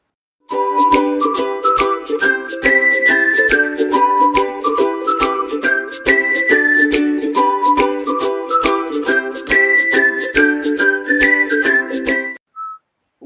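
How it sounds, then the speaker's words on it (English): A bright melodic tune plays over a steady rhythmic beat, its whistle-like lead line repeating the phrase several times before stopping abruptly. "I always have a little whistle to that when it comes on"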